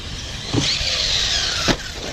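A Hobao Hyper VSE electric RC car taking a ramp jump, its motor whining loudly at high pitch in a sustained whir, with a thump near the start and another sharp impact as it lands.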